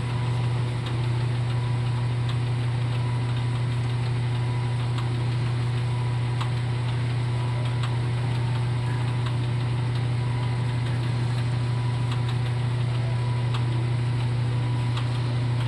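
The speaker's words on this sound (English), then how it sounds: "How'd you get your arm caught in that fucking lathe, Chris?" A metal lathe runs steadily with a constant low motor hum and faint mechanical chatter, continuous and even throughout with no talking.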